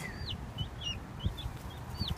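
Chickens cluck and chirp in short, scattered calls close by, several birds trading brief squawks over a low rustling background.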